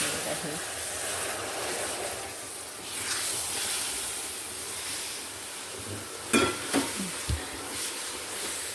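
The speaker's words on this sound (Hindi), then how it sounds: "अब इसमें वो शीरा डालना है। अब ध्यान से डालना, आपने शीरा उछल के आ सकता है बाहर से।" Sugar syrup poured into hot roasted besan in a large wok for besan barfi, producing a continuous hiss and sizzle followed by a few sharp clanks and stirring knocks near the end.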